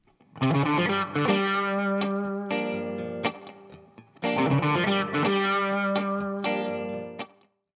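A distorted electric guitar plays a lead phrase with chorus and effects, two bursts of sustained notes and bends, loud and alone with no voices.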